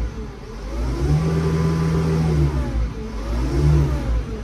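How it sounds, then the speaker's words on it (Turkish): Manitou MT180 telehandler engine revving close up, two rising surges of throttle over a low rumbling idle, loud and without speech. "Göründüğü üzere gaz yemesinde herhangi bir sıkıntı yok makinenin."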